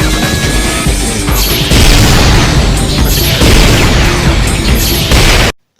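The Death Cannon attack from the Soul Eater anime goes off as a loud, sustained roaring blast with repeated booming surges, ending abruptly in silence.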